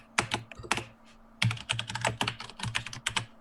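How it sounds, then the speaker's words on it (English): Rapid clacking keystrokes on a loud computer keyboard during a tabletop role-playing session, arriving in close, uneven bursts with brief pauses between them. "You and your goddamn monster keyboard."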